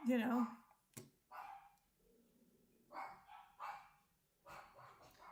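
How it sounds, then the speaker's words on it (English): Dogs bark in several short, faint bursts spread across the moment, heard from a distance in a quiet room along with a few voice sounds. "the doggos are barking"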